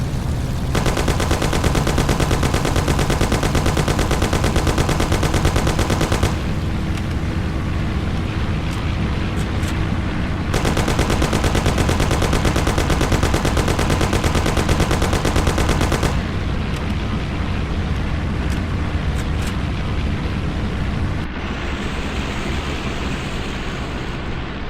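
Gunfire in a Mafia video game shootout, a dense roar of rapid automatic fire in long sustained bursts with short gaps between them, loud and continuous with no talking.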